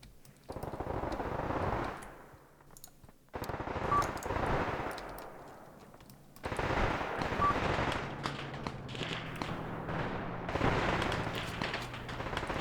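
Gunfire in the tank-battle video game Graviteam Tactics Mius Front during an ambush on a column: bursts of rapid machine-gun fire and shots in several loud stretches, separated by short pauses.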